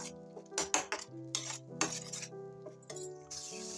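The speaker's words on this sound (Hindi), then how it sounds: "और अब इसको हम भून लेंगे जब तक कि ये तेल ना छोड़ने लगे मसाले" Spices roasting in oil for dal pakwan while a spoon stirs and scrapes the pan, with clinks and soft sizzling under the clatter, close and moderately quiet, no voices.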